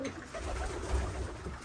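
Çayka pigeons coo inside a coop, soft low throaty cooing close by that swells briefly in the middle over a muffled background.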